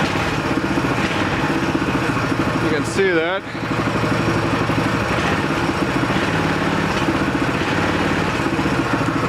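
Small mini bike engine with a magneto-powered headlight runs steadily close by, its mid-pitched putter loud throughout, with a brief swell around one throttle blip; someone talks over it.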